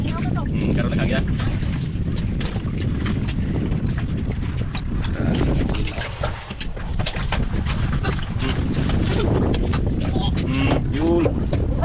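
Steady wind roars across the microphone on a small fishing boat at sea, a constant loud broadband rush with water slapping and someone talking over it throughout.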